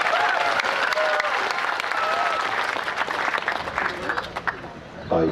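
Crowd applause at a public gathering in Sri Lanka, dense sustained clapping with voices mixed in, loud and continuous before fading slightly at the end.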